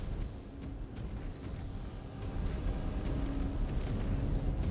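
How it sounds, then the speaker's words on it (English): Mech reactor explosion in the MechWarrior 5 Clans video game, a sustained loud rumbling roar with dense low-end energy that builds slightly toward the end, no speech over it. "Imminent reactor explosion!"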